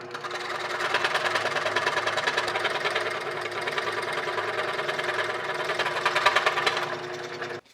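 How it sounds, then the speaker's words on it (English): A steady, rapid mechanical buzzing and chattering runs for several seconds at moderate level as a jigsaw at low speed cuts the plastic shell of a Nerf blaster at a slow, even pace. "my go-to for cutting shapes out of Nerf blasters is the jigsaw"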